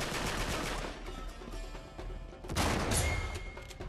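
Gunfire in the co-op video game Uncharted 3, a rapid run of sharp shots early on, then a louder burst of blasts a little past halfway, with game effects between.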